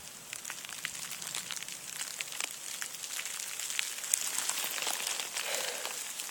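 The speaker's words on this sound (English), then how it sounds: "It's probably more like freezing rain." Freezing rain or light hail falling during a thunder and lightning snowstorm, a steady faint patter of tiny ticks and taps pattering outdoors without pause.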